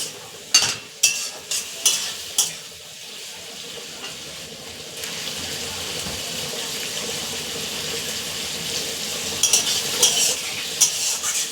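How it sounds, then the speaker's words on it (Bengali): Soybean curry masala of ginger paste, chili powder, cumin powder, tomato and slit green chilies sizzles in a pan with a little water, with sharp stirring scrapes at the start and end over a steady close frying hiss. "এবারে দিয়ে দিলাম আদা বাটা লঙ্কা গুঁড়ো জিরে গুঁড়ো টমেটো এবং চেরা কাঁচা লঙ্কা দিয়ে সুন্দর করে একটু জল দিয়ে কষবো"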